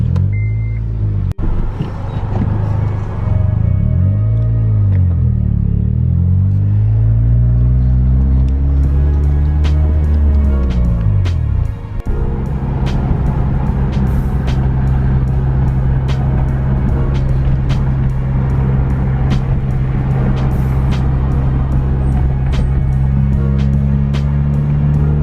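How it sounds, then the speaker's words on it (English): A 2005 Acura RSX driving on the road, its engine a loud steady drone from inside the car that swells and dips as it revs up and shifts, then holds a constant hum throughout with no talking. "this car sounds pretty nice on the road"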